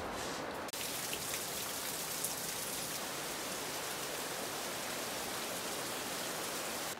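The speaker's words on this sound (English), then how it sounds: "the rain is so strong, it's super loud" Heavy rain drumming on a tiny house, a dense, constant hiss of countless drops that stays loud and unbroken after a brief dip near the start, with no one speaking.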